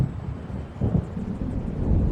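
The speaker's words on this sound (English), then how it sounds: "It seems there's a storm coming." Low rumbling thunder from an approaching storm in the video game Alan Wake Remastered, a soft continuous roll that swells slightly midway and again near the end, heard alone without speech.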